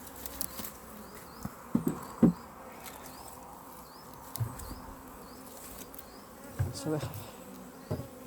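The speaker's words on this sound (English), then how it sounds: "this, we believe, is a swarm that's gone in" Honeybee swarm that has moved into a hive, a soft, steady buzzing hum heard close by, with faint handling knocks and thumps over it.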